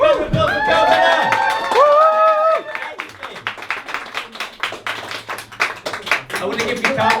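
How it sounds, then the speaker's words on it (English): Live comedy-night audience clapping and cheering for comedian Carl Benner. It starts under a loud voice and builds into steady, fairly close applause that continues to the end. "Big round of applause for Carl Benner!"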